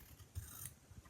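Quiet snipping of scissors trimming fabric for a 19th-century hand-sewn doll dress, a couple of soft close cuts and rubbing within about a second.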